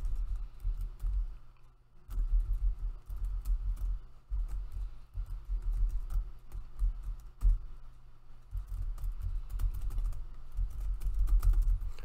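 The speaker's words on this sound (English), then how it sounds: "if you can hear my keyboard" Computer keyboard typing during a competitive game session, a steady patter of close, fairly loud key clicks running nearly the whole time with brief pauses, no talking.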